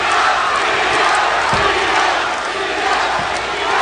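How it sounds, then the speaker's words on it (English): Dense boxing-arena crowd roaring and chanting for Juan Diaz during a hard 12-round fight with Lakva Sim, a loud, steady wall of voices with a few sharper swells, no clear talk over it. "Crowd chanting for Juan Diaz, trying to bring him home in this extremely difficult 12-round fight"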